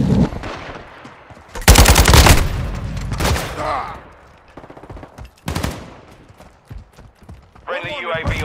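Bursts of automatic machine gun fire in Call of Duty: Modern Warfare II, loud rapid volleys in short separated strings with gaps between, mixed with game radio voices talking.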